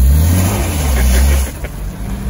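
Renault Clio Williams hot hatch with its revvy engine, a loud throaty roar for about a second and a half before dropping back to a lower, uneven hum; no voices.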